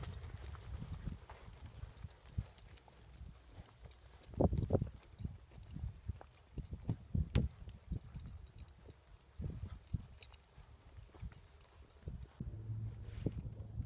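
Hooves of a horse cantering a barrel racing pattern in a lesson, a steady clip-clop of footfalls with a few louder thuds, moderately near over low outdoor rumble.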